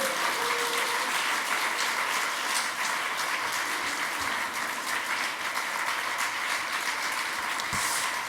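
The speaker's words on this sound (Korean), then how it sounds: "박수로 환영해 주시기 바랍니다." A church congregation claps in steady, dense applause to welcome the pastor at a Friday night Holy Spirit worship service. The clapping stays loud and even throughout, with no talk over it.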